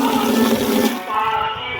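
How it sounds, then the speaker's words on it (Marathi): Water rushes forcefully from a tap into a basin, a loud, steady broadband gush that churns continuously throughout. "खूप फोर्सने पाणी येतं"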